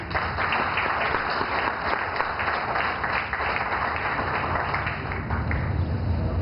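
Loud, sustained applause from a large audience, dense clapping that holds steady throughout without a break.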